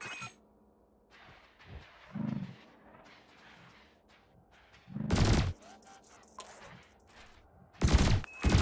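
Ship weapons in the space game Elite Dangerous fire at floating cargo canisters, two loud blasts standing out near the end over a low hum of cockpit sounds and softer intermittent bursts.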